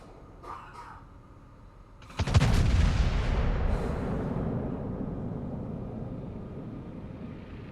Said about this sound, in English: Cap fires his 12-gun salvo.